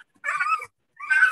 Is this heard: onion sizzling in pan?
no